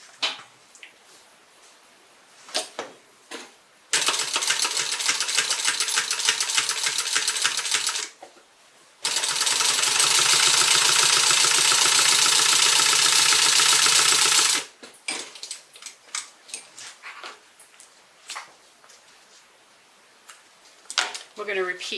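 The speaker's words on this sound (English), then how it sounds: "And you're going to top stitch that down." A sewing machine top stitches a zipper pocket onto a faux croc tote bag in two long, steady, loud runs with a short pause between them. Quieter handling noises and talk come before and after.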